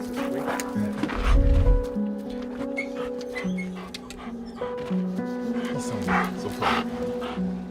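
Several dogs rescued from a cluttered hoarding house yip, whine and bark in close, overlapping bursts, with a brief low thump near the start.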